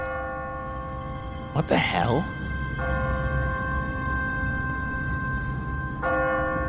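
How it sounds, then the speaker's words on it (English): Automatic church bell on a timer in The Walking Dead video game, its steady ringing tones sounding continuously through an abandoned city, interrupted briefly by a startled voice. "What kind of church bell goes off at 20 past the hour?"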